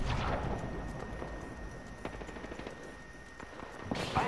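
Rapid gunfire in the video game Apex Legends, a steady rattling stream of shots at moderate loudness, with a sharper burst near the end.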